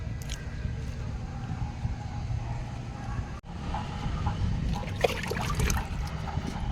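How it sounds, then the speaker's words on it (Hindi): A mug of liquid plant tonic poured onto garden soil at the base of a gourd vine, a steady close trickle and splash running continuously with a brief break partway through. "यहाँ पे भी हम इस लिक्विड को 1 मग डाल देंगे।"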